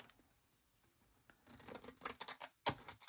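Scissors snip through bird feathers, trimming the tips, with faint scattered clicks at first and then a run of close, crisp cuts and rustles growing busier toward the end.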